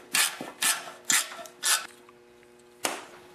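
A wrench loosens a 3/8 bolt on the recoil assembly of a 5 hp Briggs & Stratton engine, giving four quick ratcheting bursts, a pause, then one more, close up and alone.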